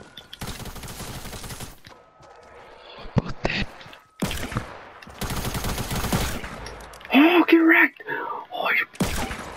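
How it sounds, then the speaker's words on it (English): Gunfire from Fortnite gameplay, including sniper rifle shots, comes as loud bursts separated by quieter gaps, with a player talking over parts of it. "I just hit one of them with the sniper, so he should be weak."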